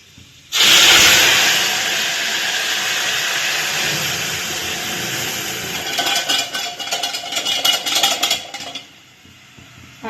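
Dal tempering (vaghar) poured into hot oil, a sudden loud hiss that flares up and holds as a steady close sizzle, turning crackly and spattering before it dies away.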